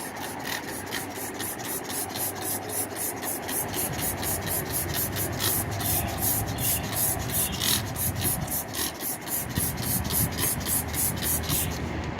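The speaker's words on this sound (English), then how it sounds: "So let's go ahead and spray." Rapid, steady hissing bursts of wheel cleaner from a trigger spray bottle, pumped over and over in a quick rhythm onto a wheel, close by, with faint background noise beneath.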